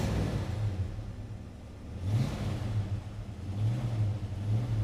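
A 1969 Ford Mustang Mach 1 V8 engine rumbles after a cold start, holding a deep idle and then rising in two distinct revs before settling, heard close and alone.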